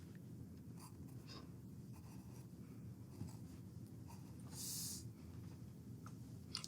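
A pen scratches over paper while a cartoon mouth is drawn, a faint, close, intermittent scribbling in a quiet room with no talk.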